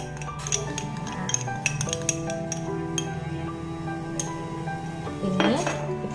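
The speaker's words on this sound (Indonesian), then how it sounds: "ini kita aduk lagi" Metal spoon or whisk clinking against a bowl while cake batter is stirred after rum and sweetened condensed milk are added, steady close scraping and light taps throughout, with a louder clatter near the end.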